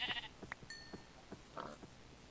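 A Minecraft sheep in the Better Than Wolves mod gives one short bleat near the middle, surrounded by soft clicking footsteps and game sounds.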